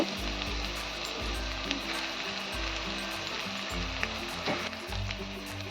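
Browned onion and mashed potato sizzle steadily in a pan over lowered gas, a close, continuous frying hiss broken by regular soft thumps of stirring.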